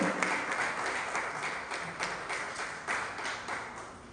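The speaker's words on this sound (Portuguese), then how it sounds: "aplauda o Senhor, aplauda Ele" A church congregation claps and applauds during worship, a steady dense wash of many hands lasting throughout at moderate level, with faint voices underneath.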